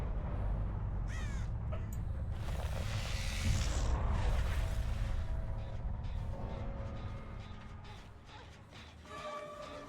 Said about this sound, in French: il y a un corbeau qui s'est envolé.